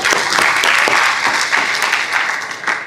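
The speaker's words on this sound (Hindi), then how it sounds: "बहुत अच्छा सवाल पूछा, ताली बजाओ भाई इसके लिए।" An audience at a sports injury talk bursts into applause, a dense, loud, steady burst of clapping filling the short moment alone, with no voices over it.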